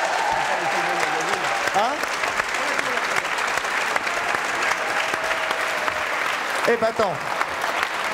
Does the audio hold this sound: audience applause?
yes